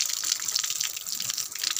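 Water runs from a tap into a sink in a steady, gushing hiss with small splashy fluctuations, close by and alone.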